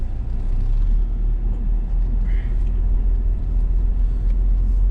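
A 1990 Toyota Hiace Wagon van drives along with a heavy, steady low rumble of engine and road noise filling the cabin, loud and continuous with no talking.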